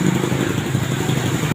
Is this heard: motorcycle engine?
yes